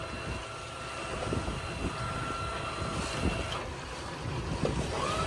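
Heavy wind blows steadily across a boat being anchored, a constant roaring rush with gusty buffeting against the microphone and faint low engine and water sounds beneath, without speech.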